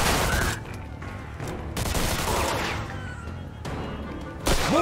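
Gunfire in a Mafia 2 shootout, bursts of shots and crashes separated by brief lulls, loud and close, with a final sharp burst at the end and no talking.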